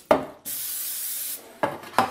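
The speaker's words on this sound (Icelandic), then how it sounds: "Spreyja degi hérna í endanum." A spray bottle mists water over bread dough, one steady hiss lasting about a second, bracketed by sharp handling clicks and taps, close and clear with no talk.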